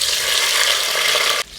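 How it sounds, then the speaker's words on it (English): Chicken gizzard fries in hot oil on a stovetop, making a loud, steady crackling sizzle that cuts off abruptly near the end. "so I'm going to be frying the gizzard."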